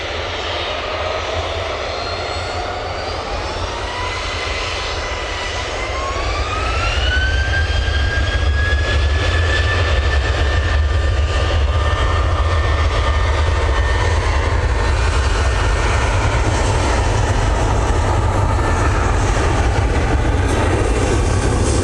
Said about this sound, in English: Like one of the biz jets coming out